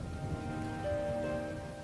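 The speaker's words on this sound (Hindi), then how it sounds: "बारिश शुरू हो गई और ये बारिश जब एक बार शुरू हो जाती है तो रुकने का नाम ही नहीं लेती।" Steady rain falls in a Hindi cartoon story, a continuous moderate hiss of downpour with a faint low rumble underneath and no voices.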